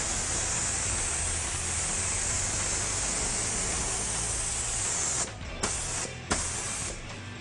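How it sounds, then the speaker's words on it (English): A continuous airbrush hiss sprays graphite paint through a carbon fiber pattern stencil, steady and close for several seconds, then cuts off and restarts in short bursts. "we're going to spray graphite back through that"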